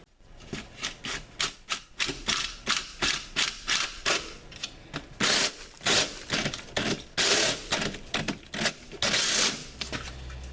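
A Southwire Smart Box hole cutter rasps through drywall in a long series of rhythmic scraping strokes, close and fairly loud, the grinding cuts growing stronger and harsher toward the end.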